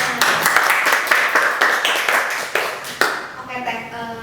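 Hands clap in a quick, regular rhythm, close and fairly loud, while a voice talks over them. A few slower claps follow before the sound fades into speech.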